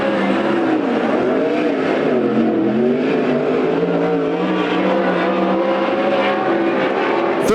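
A sprint car at Coos Bay Speedway roars steadily through the high line of turns 3 and 4, its loud engine note rising and falling continuously and close throughout, with no talking.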